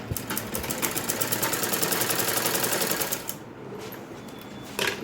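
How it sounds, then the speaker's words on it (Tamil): A sewing machine stitches a blouse in a rapid, steady mechanical clatter up close, slows briefly near the end, then gives a short final burst. "அப்படியே அடிச்சிருங்க."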